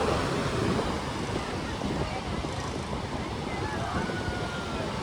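Sea waves rolling in at Madhavpur beach, a steady broadband wash of surf with gusty wind noise on the microphone, continuous and fairly loud throughout.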